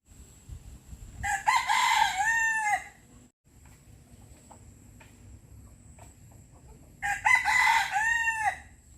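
A rooster crows twice, loud and close, each call a long rising and falling cry about two seconds long, with a quiet gap between them at a rural garden home in Chanthaburi during rain, and no talking.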